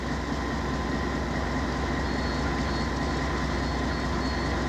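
A CP Rail coal train of empty cars rolls past close by, a loud continuous rumble and rattling roar that stays steady and unbroken for the whole stretch with no voices over it.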